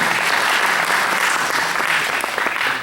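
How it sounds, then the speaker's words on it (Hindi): Loud, dense applause from an audience at a Holi celebration in Houston, sustained and steady throughout with no break, like a large crowd clapping together. "उन सभी के लिए जोरदार तालियों से सबका स्वागत करेंगे।"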